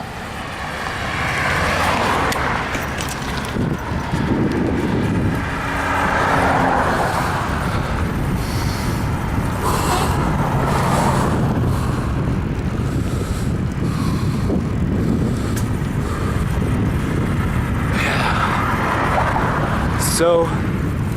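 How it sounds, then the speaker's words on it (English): Steady stream of street traffic rolling past at night on a residential street, a continuous broad rumble with wind buffeting the microphone and a brief sharper pass near the end. "there is a lot of traffic for a Monday night."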